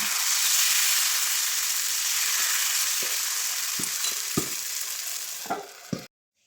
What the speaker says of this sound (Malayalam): ഇതാ നമ്മൾ അപ്പൊക്കെ വീണ്ടും ഒഴിച്ചെടുക്കുന്നുണ്ട് ചട്ടിയിൽ